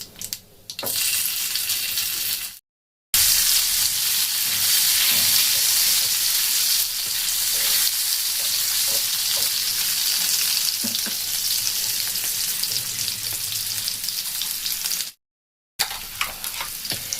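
Potatoes sizzle and fry loudly in a small amount of oil in a pan, a steady close crackling hiss that runs almost unbroken, with stirring scrapes and two brief cuts to silence.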